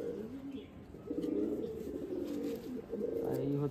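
Pigeons cooing at close range, a pair kept by a Bengali fancier of tournament racing breeds; soft repeated low coos overlapping in a steady murmur, with brief human voice underneath.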